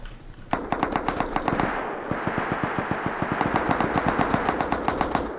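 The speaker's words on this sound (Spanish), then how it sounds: "Así le disparan a Leli." Rapid machine-gun bursts ring out in a shooting video game, loud and close, with steady rhythmic shots and a short lull in the middle before the firing resumes.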